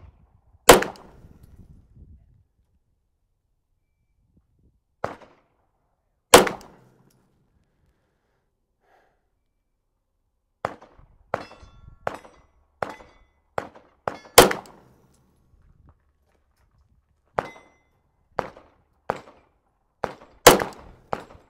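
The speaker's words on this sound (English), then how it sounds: "I'm going to try to shoot 5 rounds nice and clean out there" Rifle shots are fired from a rest for a five-round group, each a sharp, loud crack spaced several seconds apart, with quieter clicks and knocks in the silent gaps between.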